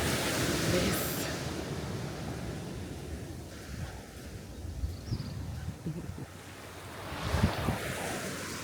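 Ocean waves washing onto Fort James Beach in Antigua, a steady roar of surf with gusts of wind buffeting the microphone and a louder swell near the end.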